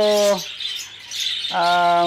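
A white cap budgie squawks twice, loud and close, each squawk a harsh buzzing cry separated by a short pause, with no talking over them.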